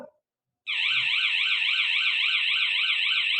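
A warbling electronic alarm on an industrial detection system flags a fault for the operator, sounding loud and continuous after a brief silence and a short thump.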